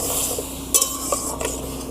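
Cauliflower frying in a pan as chopped garlic and ginger are added, a low steady sizzle broken by a few sharp scrapes and clinks of a utensil against the pan.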